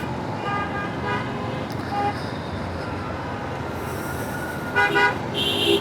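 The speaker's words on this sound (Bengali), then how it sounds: "এই পিছনের গাড়িগুলো অনেক হর্ন দেওয়া শুরু করছে" Cars honking in heavy city traffic near the Radisson in Dhaka, short horn toots over a constant road rumble, with a louder, nearer blast toward the end.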